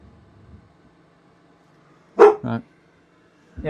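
A few loud, close barks from a female house dog come in a quick pair, then another a second later, breaking an otherwise quiet room in a computer repair workshop.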